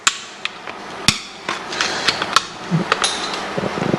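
Sharp hammer blows knock chunky bits off during an electrical installation job, landing as irregular close strikes, some hard and ringing, with scraping and small knocks between them.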